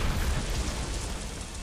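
Bomb explosion in the game Kena: Bridge of Spirits, a sustained broad roaring blast that fills the whole moment and slowly fades slightly.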